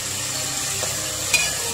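Onions frying in a pan for aloo matar tehri, a soft steady sizzle with a light stir or clink near the end, nobody talking.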